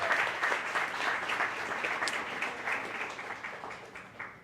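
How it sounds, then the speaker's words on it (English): Audience applause at a community event honoring Latino culture and business owners, dense steady clapping from a full room that slowly fades, with no talking over it. "let's please give them a huge round of applause for all of the work that you're doing"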